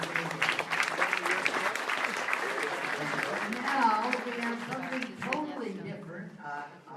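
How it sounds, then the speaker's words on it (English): A town hall audience breaks into applause, a dense wash of clapping that runs underneath a speaking voice and then fades as the talk continues. "Let's give a big round of applause to Mike and Mike"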